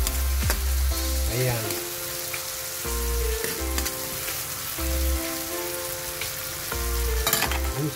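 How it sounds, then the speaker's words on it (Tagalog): Onion and garlic are sautéed in a pan, giving a steady close sizzle broken by occasional scraping stirs and utensil knocks, while someone says a brief word once. "Isama na rin natin yung gisa dyan."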